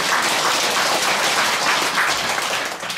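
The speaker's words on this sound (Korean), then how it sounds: "양쪽에서 대표로 용에도 박수 한번 쳐주세요." Applause from attendees at a Buddhist temple dharma service, a loud, dense and continuous burst of clapping for about three seconds.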